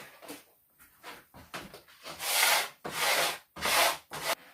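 A hand scraper drags across a hard surface in repeated rasping strokes of uneven length, each a gritty scrape ending in a short pause, heard close up.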